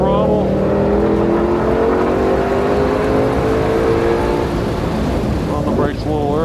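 A race car accelerates hard on throttle down the track at Ozarks International Raceway, its engine note rising steadily and loudly in pitch, heard from inside the car with constant road and wind roar.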